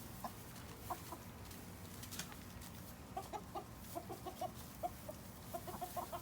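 Several chickens clucking softly in short, scattered bursts over a quiet outdoor background, somewhat distant.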